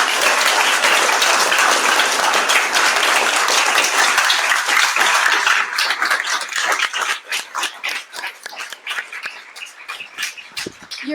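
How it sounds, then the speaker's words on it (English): Audience at the New York City Book Awards ceremony applauding the winners, dense and loud at first, then thinning into scattered individual claps that trail off. "give a big round of applause again to all of our winners"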